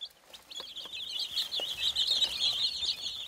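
Korean native chickens, kept on a farm to conserve their breed, cluck and chirp close by in a busy run of short, repeated calls at moderate volume, with no one talking.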